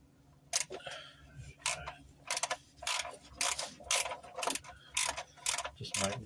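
A ratchet wrench working a bolt on a car during restoration, quick bursts of rapid clicking repeated in a steady back-and-forth rhythm, close and crisp with no talk.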